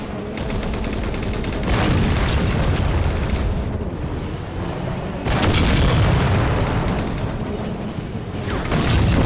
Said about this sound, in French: Oh là là, l'obus direct dans la face.